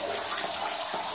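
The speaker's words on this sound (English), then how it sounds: "Look at the water. Yeah, a lot of water seeping down on us." Water seeps and drips steadily through a collapsed section of the abandoned Lost Horse Mine, a close, continuous wet hiss with soft splashes and no talking.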